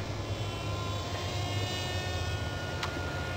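A Zblade RC model airplane flies slowly overhead, giving a steady, even motor whine with a faint high tone that holds throughout at moderate distance, with no voices.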